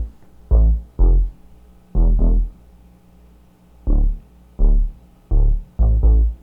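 Deep plucked synth bass notes in short pairs with gaps between, a round low tone repeating in a loose pattern, alone with no talking.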